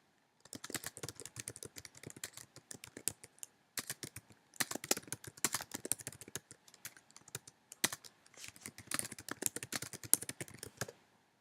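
Rapid typing on a computer keyboard while filling out form categories, steady bursts of close, crisp key clicks with a few brief pauses, no voices.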